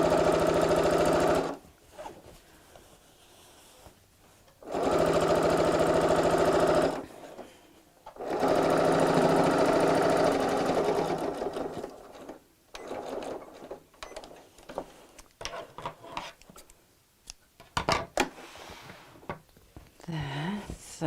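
A domestic sewing machine stitches a tote bag seam in three steady whirring runs, each a few seconds long, broken by pauses, then fabric handling and someone speaking close by.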